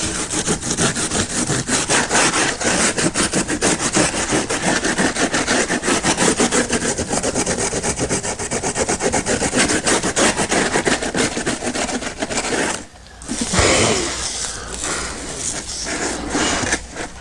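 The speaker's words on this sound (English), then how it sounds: "Maybe a little bit of sandpaper to smooth down some of the areas that are just filed." Sandpaper rubbing over filed model railroad scenery, a continuous, close rasping scratch with a brief pause near the end before the rubbing resumes.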